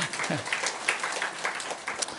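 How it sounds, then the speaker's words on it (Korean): Congregation applause during a church sermon, a brief spread of soft, fairly distant clapping from the pews with a voice briefly heard at the start. "박수 한번 쳐주셔도 됩니다."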